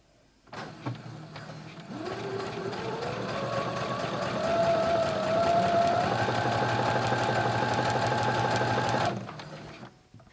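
A Brother CS10 sewing machine runs a long stitch through batting in one continuous, loud mechanical whir that rises slightly in pitch as it speeds up and then stops abruptly.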